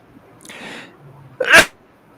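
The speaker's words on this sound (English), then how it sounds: "Oh, I got to sneeze." A single loud, close human sneeze, preceded by a soft intake of breath, in a quiet room.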